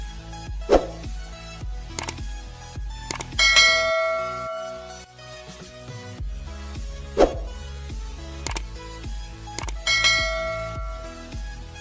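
A bright metallic bell rings out in a series of struck chimes, each with a sharp attack and a ringing decay, spaced irregularly across the span and fairly loud with no talk.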